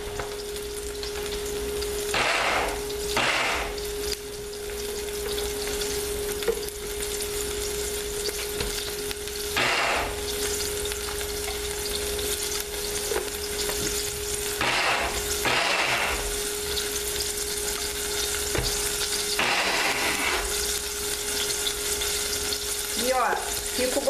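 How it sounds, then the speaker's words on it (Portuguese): Chopped onion fries in olive oil in a pan after chicken has been removed, giving a soft, steady sizzle heard up close for the whole stretch, with occasional stirring scrapes and louder bursts of noise. "vou triturar o frango enquanto eu tô fritando a cebola."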